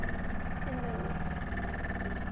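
A Jensen steam engine runs steadily with a continuous mechanical rattle and chugging hum, close and loud throughout with no pauses.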